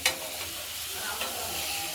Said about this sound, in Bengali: শিম ভাজাগুলো আমাদের হয়ে গেছে